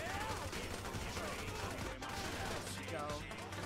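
Rapid gunfire in a GTA-style video game, a dense continuous rattle of shots at low level, mixed with game noise and a faint voice.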